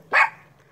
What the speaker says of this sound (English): Do I have to go back up the mountain to find out what she's barking at?